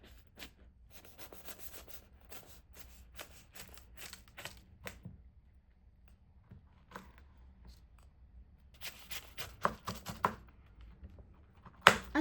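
A knife cuts into the golden rice crust of an Azerbaijani shah pilov, giving a run of close, crisp scraping and crackling strokes, a quiet pause, then more crunching cuts ending in a sharper crack.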